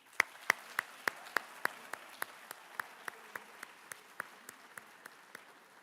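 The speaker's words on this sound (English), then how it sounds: "a loud round of applause for all of our coaches who are here" Even, evenly spaced claps, about twenty in a steady beat, fade gradually at a high school athletic awards ceremony honoring the coaches. They sound fairly faint and distant, with no voices.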